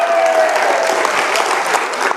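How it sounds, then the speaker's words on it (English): An audience claps steadily through a lecture hall after a speaker asks for applause, a dense, even wash of hand claps at moderate loudness with a brief voice at the start. "Give her a round of applause."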